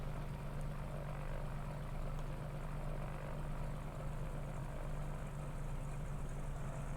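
A Cessna Skymaster propeller plane taxiing in to park: steady, droning engine and propeller noise with a low hum, continuous and even throughout, with no voices.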